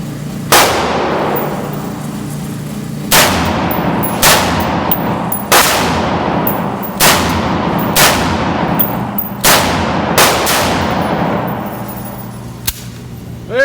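Ruger Mini 14 .223 rifle test firing outdoors for a stovepipe jam, six loud sharp shots spaced about two seconds apart, each with a booming echoing tail, close to the listener.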